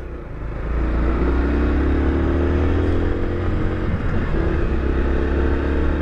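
Yamaha Crosser 150 motorcycle ridden through an urban stretch, a steady, close engine drone with a strong low rumble, rising gradually and shifting once mid-run, with no talk over it.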